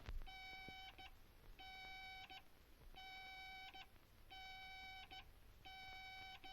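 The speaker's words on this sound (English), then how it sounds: "If I go to the right, I hear a series of dash dots." Repeated bursts of a steady electronic tone from a dash-dot radio beam navigation signal, each lasting about a second with short gaps between, five pulses in a regular rhythm over a faint hiss.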